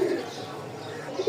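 Giribaz pigeons, a male and female pair, coo softly in low, throaty murmurs close by while someone talks over them.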